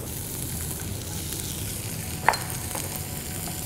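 Chopped onions and peppers sauté in a pan with a steady, close sizzle and one brief clink of a utensil partway through.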